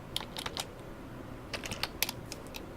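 A computer keyboard clicks in short scattered taps as a command is typed on a Windows PC, faint and close over a low background hiss.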